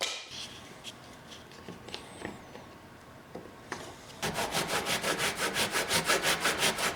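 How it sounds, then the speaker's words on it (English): A bandsaw cuts a metal backsplash sheet: scattered scrapes and clicks at first, then a loud, rhythmic rasping cut begins partway through and continues in quick, even pulses to the end. "Guess I can cut it in my bandsaw."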